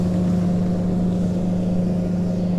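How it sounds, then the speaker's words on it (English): A steady motorboat engine drone as the boat speeds past, loud and continuous, with a constant low hum and no talking. "boats like that just hauling butt"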